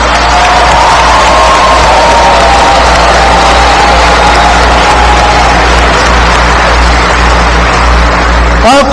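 A large graduation-ceremony audience breaks into sustained, loud applause and cheering that fills the hall steadily for the whole stretch, dense and close, with a brief louder burst near the end.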